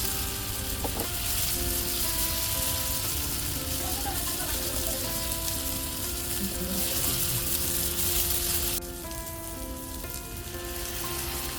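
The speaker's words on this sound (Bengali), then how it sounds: "ভালোভাবে পেঁয়াজের সাথে নেড়ে নেব যতক্ষণ না পর্যন্ত আদা রসুনের কাঁচা স্মেলটা চলে যায়।" Onion with ginger-garlic paste sizzling in a pan as it is stirred, a continuous bright frying hiss with scraping and clinking of the spatula, briefly dropping in level near the end.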